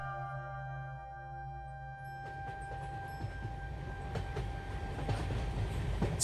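A cartoon train rumbles along with rhythmic rolling clatter that grows louder and busier, preceded by a low steady hum and tonal drone at the start.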